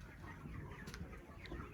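A dense, constant chorus of many 25-day-old broiler chickens clucking fills a crowded poultry farm house, with faint peeps scattered through.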